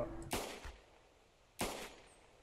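Two rifle shots ring out in theHunter Classic during a European rabbit hunt, each a sharp, loud crack with a short decaying tail, spaced about a second apart with quiet between them.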